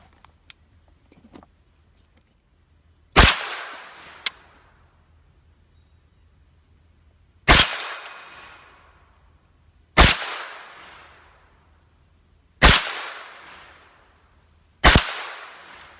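Five sharp, loud gunshots from a Matrix Arms 9mm rear-charging Glock-style AR pistol firing steel-case ammunition at a range, spaced a few seconds apart, each with a short ringing decay, plus one fainter crack early on.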